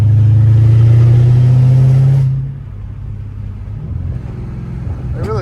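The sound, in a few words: Dodge Hellcat Redeye revving with catless straight-piped exhaust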